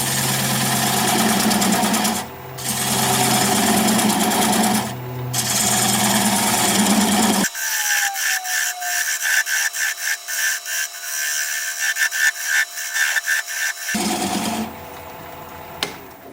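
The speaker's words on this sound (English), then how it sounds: "I'm going to use a 3/8 inch bowl gouge and commence to removing that tenon." A 3/8 inch bowl gouge cutting away a tenon on a spinning wood lathe, giving a steady loud whirring hum broken by rapid rhythmic scraping chatter in the middle, with brief dips in the motor noise.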